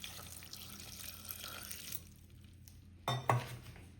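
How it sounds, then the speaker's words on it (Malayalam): Water pours steadily into a pressure cooker holding potato stew with ginger and fennel, a hissing splash for a couple of seconds, then quieter, followed by two sharp metallic clanks near the end. "നമുക്കിതിൽ വെള്ളം ഒഴിച്ച് കൊടുക്കാം."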